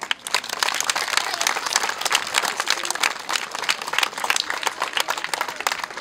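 An audience at a strongman record event breaks into loud, sustained applause, dense clapping filling the whole stretch without pause.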